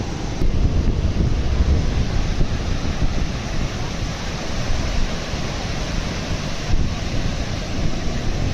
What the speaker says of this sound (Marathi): लाटा खूपच वाढलेल्या आहेत